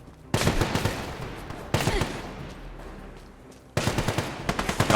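Enemy gunners in a video game open fire in three loud bursts of rapid automatic shots, each rattling volley cutting in sharply and fading before the next, with no talking.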